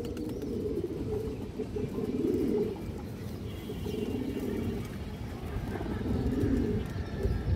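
Pigeons coo close by in a steady, overlapping low murmur of throaty rolling calls that continues without a break.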